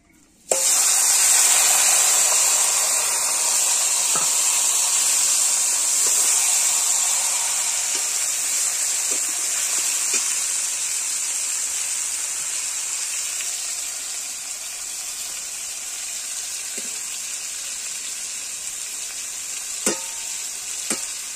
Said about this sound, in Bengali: এবার তেলে এই মাংসটা দিয়ে দেবো।